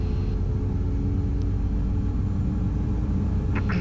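Citation M2 private jet engine spooling up during start, a steady loud low rumble and whine heard close from inside the aircraft, continuous with a brief click near the end.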